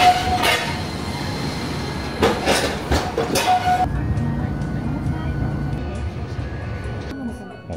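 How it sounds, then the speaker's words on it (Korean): A tram running through a city in Shikoku, Japan: loud rumbling with a few sharp squeals and clanks early on, then a steadier, quieter rolling drone, with voices heard over it. "여기도 전철이 거의 없고 그러니까 트램으로 이용하는 것 같아요."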